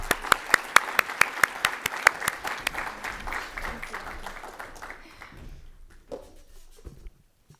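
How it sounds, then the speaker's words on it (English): A conference audience applauds after a round of applause is called for on stage at a brain health event, starting with sharp distinct claps and swelling into steady dense clapping that fades out over several seconds. "Give them one more round of applause, please."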